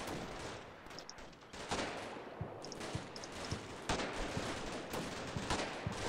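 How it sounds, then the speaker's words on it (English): AK rifle pot shots crack out in the war game Combat Mission Shock Force 2, a string of sharp reports over a dense background rumble of ongoing battle. "I'm just taking pot shots with an AK instead"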